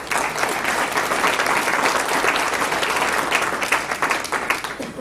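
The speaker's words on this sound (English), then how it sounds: "Please give them a round of applause." Dense, continuous applause from an audience at a mayoral candidates' debate, steady clapping that swells and holds without a break.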